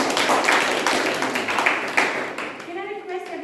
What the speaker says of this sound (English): Round of applause for Toastmaster Abhishek, please.